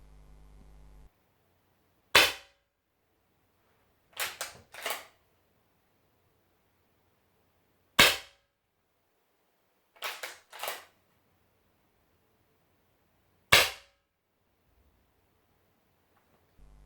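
Six sharp shots from a Hatsan Vectis air rifle with a built-in suppressor crack out at irregular intervals, fairly loud but clipped, with near silence between them.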